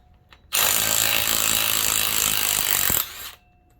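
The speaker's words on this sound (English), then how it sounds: "See if this gun has enough oomph to get them off." An impact gun hammers loose Loctite-secured flywheel bolts on an LS-swapped Nissan 300ZX, a loud continuous rattling whir of about two and a half seconds that ends in a short spin-down.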